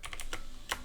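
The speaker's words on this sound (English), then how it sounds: "let's shift down our text box here so we can do some typing." Several quick keystrokes tapped on a computer keyboard during a lecture, crisp clicks in an uneven rhythm, close and clear over faint room tone.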